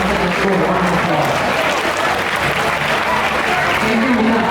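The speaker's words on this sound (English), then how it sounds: "Let's give the incoming Student Council Exco a round of applause" Steady, dense applause from a crowd at a student leaders' investiture, loud and continuous throughout with no pauses.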